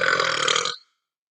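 A single loud, drawn-out burp heard up close, lasting under a second before cutting off into silence.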